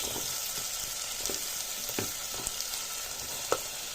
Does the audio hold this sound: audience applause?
no